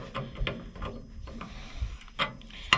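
A threaded nut is tightened in a series of short, dry mechanical clicks and ratcheting scrapes, irregularly spaced and close up, with a sharper click at the end and no talk.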